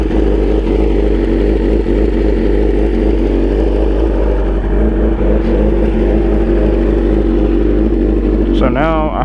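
A motorcycle engine firing up for the first time on E85 fuel settles into a steady, close idle rumble that holds for several seconds, with a brief rising whine near the end.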